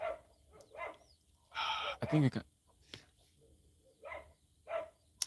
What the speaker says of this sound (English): Can you hear the dog barking, please?